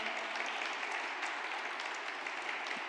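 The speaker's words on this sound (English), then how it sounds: "Please keep that applause going." An audience applauds after a live drum and saxophone set, a dense, even patter of many hands that holds steady throughout, moderately distant with no talk on top.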